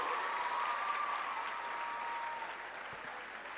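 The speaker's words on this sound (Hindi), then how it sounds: "बड़ी अच्छी तालियां बजा रहे हो" Children applauding at an event addressed by the CM of Punjab, a steady wash of clapping that eases slightly toward the end, heard at moderate distance with no speech over it.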